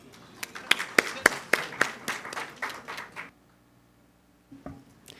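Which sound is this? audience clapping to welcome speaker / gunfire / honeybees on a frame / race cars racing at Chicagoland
audience clapping to welcome speaker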